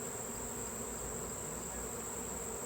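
Honey bees swarm agitated around their hive on a cloudy day during a honey harvest, making a dense, continuous buzzing drone close to the microphone, steady and without any talk.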